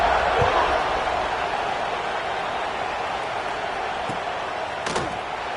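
Football stadium crowd at a South Carolina versus Georgia college game, buzzing steadily after a touchdown, a dense wash of crowd noise with a few sharp thuds and claps.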